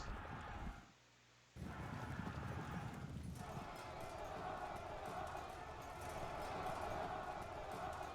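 Light horse cavalry hooves clatter in a steady, dense clip-clop during a Pike and Shot battle between Scottish and English forces, loud and continuous after a brief near-silent gap, with someone talking over them.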